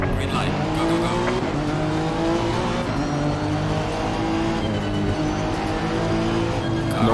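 Race cars roar in a pack at the green-flag start of a racing video game, steady loud engine drone with tire squeal throughout, under game audio with a voice talking over it.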